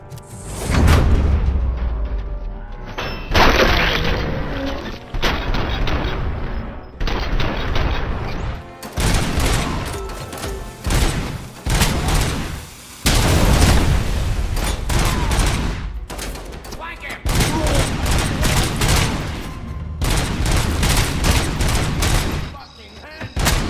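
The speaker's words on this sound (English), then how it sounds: "They have rocket launchers, I think." Rocket launcher fire and explosions in the Robocop Rogue City game: dense, loud bursts of gunfire and booming blasts in rapid clusters, continuing almost without break, with a voice talking underneath.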